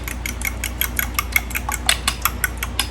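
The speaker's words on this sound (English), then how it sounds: "So I'm just whisking these." Eggs whisked in a bowl with a rapid, steady run of bright metallic ticks and scrapes, about a dozen quick strokes close up over a low constant background hum.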